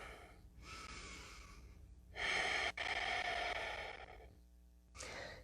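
Loud, drawn-out breaths during a yoga flow: a long inhale-like rush, then two stronger exhales in the middle and a short final breath, close to the listener with no talking.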